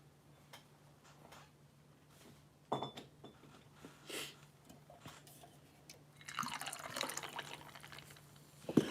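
Whiskey poured into a glass, a faint short splash and trickle near the end of an otherwise quiet stretch with a few small ticks and clinks.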